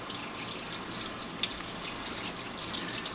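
Tap water runs steadily into a kitchen sink while raw chicken is washed under it, a continuous close splashing hiss with small irregular spatters and no voices.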